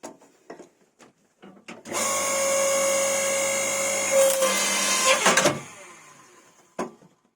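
A log splitter converted into a forge press pushes flattening dies down onto a piece of wood, giving a loud, steady hydraulic whine and hum for several seconds, then creaking and crunching as the wood gives way, with a few clicks around it.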